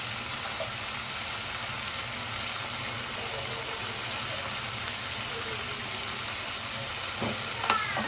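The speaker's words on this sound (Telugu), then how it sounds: "వేసుకున్న తర్వాత ఒకసారి కలుపుకోవాలి" Tomato pieces sizzle steadily in a hot pan as they are stirred, a constant close frying hiss throughout with a brief scrape of the spoon near the end.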